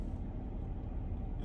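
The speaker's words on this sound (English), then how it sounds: "Every single car gonna come this way." Cars driving past at a roundabout, a steady low road rumble of passing traffic heard from nearby without a break and with no talking.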